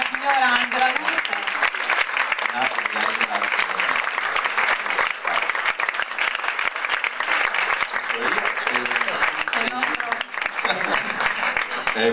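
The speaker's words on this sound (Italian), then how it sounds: "Un applauso per la signora Angela Luce." An audience at the Premio Nike award ceremony claps continuously and loudly for actress Angela Luce, and voices speak over the sustained applause.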